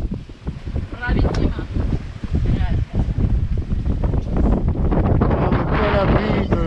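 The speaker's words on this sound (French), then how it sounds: "le vent rentre toujours évidemment" Gusty wind buffets the microphone aboard a boat off Mallorca, between Sóller and Andratx, a steady low roar with people talking French over it throughout.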